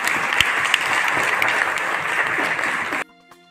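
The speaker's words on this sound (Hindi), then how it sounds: "आज एक जोरदार ताली मेरे भाई जगदीश चौहान जी के लिए।" Loud, dense applause fills a State Bank of India staff association ceremony honoring a retiring colleague, steady clapping for about three seconds before cutting off abruptly.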